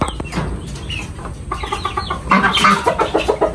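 Chickens cluck and call at a Vietnamese chicken farm raising fighting and meat birds. There is a steady close chorus of clucks that grows busier and louder toward the end, with no talking.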